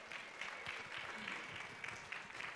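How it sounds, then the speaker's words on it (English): Soft, fairly quiet applause from a small audience greeting panelists at a community food event, a steady patter of clapping lasting a few seconds without voices. "Give them a round of applause."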